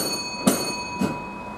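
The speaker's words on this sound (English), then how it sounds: "the old ringer bell," Two clear dings from the old-style ringer bell aboard a 1950s ferry tram in South Perth, struck about half a second apart, close by with a bright metallic ring over a quiet cabin hum.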